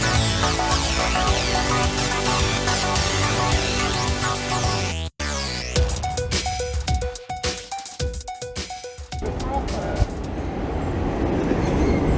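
A Vienna line 1 tram arrives with rumbling, clattering wheels and a series of repeated two-tone chimes, following loud orchestral music, then fades to street noise.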